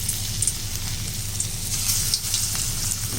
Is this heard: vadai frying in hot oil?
yes